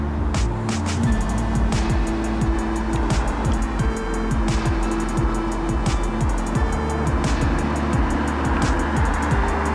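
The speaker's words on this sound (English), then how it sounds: "Plenty of cars around." Steady road traffic with vehicles rolling past one after another, a continuous engine and tyre hum and repeated passing swells throughout.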